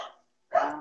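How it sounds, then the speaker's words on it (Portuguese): A small dog barks twice, short sharp yaps close by, separated by a brief silence. "Seu cachorrinho está latindo aí"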